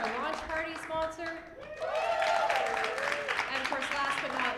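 An audience claps at a launch event during Calgary Innovation Week 2025, a continuous wash of applause swelling and sustained while a voice talks over it.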